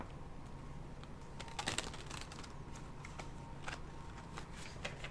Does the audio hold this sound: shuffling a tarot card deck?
yes